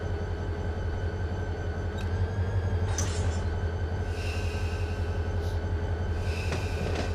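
A train rolls along in the Run 8 Train Simulator III game on the A-Line, giving off a constant low engine and wheel rumble. Faint metallic clicks and brief squeals rise above the steady drone.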